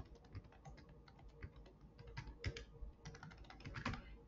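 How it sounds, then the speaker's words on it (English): Typing on a computer keyboard to enter a search, with a rapid, uneven run of close, crisp key clicks and a few louder strokes. Nobody speaks. "we're going to type in mindfulness journal."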